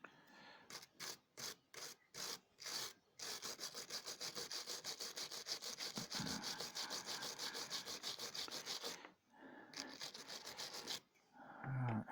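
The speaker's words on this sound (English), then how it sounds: "I might be able to rub a wire brush across the top of it." A wire brush scrubs a corroded part of a 1980s Speak & Spell held in pliers. Quick, even strokes scrape close to the listener, first in short separate bursts and then in a long, fast, rhythmic run.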